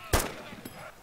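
A gunshot from the video game DayZ Epoch, with one sharp, loud report near the start followed by a fainter second crack about half a second later.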